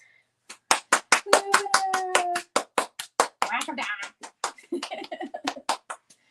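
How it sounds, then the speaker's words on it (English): A few people clap in short, uneven bursts of distinct close handclaps, with voices speaking and briefly singing a held note between the claps. "You win a round of applause."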